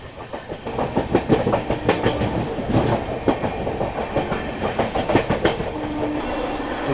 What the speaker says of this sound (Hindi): तो ये रही गया आनंद विहार अमृत भारत एक्सप्रेस